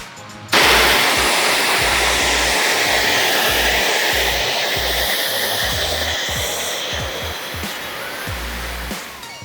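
A pressure washer blasts water onto a tree outside a house in Jacksonville, Florida, a loud, constant roaring hiss that starts abruptly and runs nearly unchanged, easing slightly toward the end.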